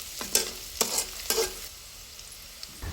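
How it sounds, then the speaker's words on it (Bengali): Whole cumin seeds and four or five dried chillies fry in a pan, a soft steady sizzle broken by three distinct scraping strokes of a spoon stirring them. "নেড়ে চেড়ে আবারও আমাদের ভেজে নিতে হবে।"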